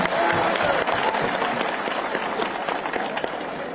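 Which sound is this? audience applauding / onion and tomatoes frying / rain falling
audience applauding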